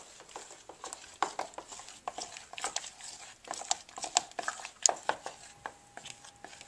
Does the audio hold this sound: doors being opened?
no